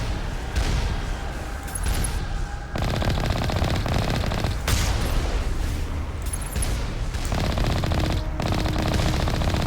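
Enemy machine gun fire in Mass Effect, a sustained loud rattle of rapid automatic bursts with brief pauses, close and continuous throughout.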